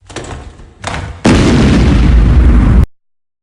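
A loud, booming explosion erupts in a Sherlock Holmes video game after two short preliminary bursts, followed by a sustained roaring rumble that cuts off abruptly.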